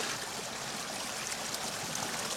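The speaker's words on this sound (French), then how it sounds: "t'entends pas le ruisseau chanter?" A small brook flows and babbles continuously at close range, a dense, even rush of water with no voices over it.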